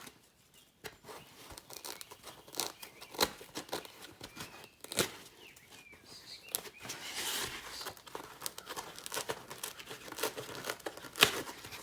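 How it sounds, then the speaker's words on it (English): Kaizen foam insert for a DeWalt DS130 Tough System case being peeled back in layers by hand, giving soft tearing and crinkling rips in irregular bursts, close and fairly quiet, with no talking. "You kind of have to feel what level you want to end at and peel it back gently."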